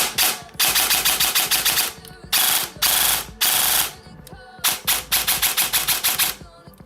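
An ICS M16 airsoft gun fires in several close, loud bursts of rapid mechanical cracks, with short gaps between strings of shots and quieter clicks in the pauses.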